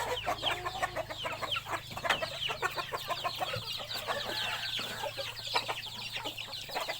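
Chickens cluck steadily from several birds at close range, with dense overlapping calls and occasional louder squawks, some sounding like young roosters, over a low steady hum.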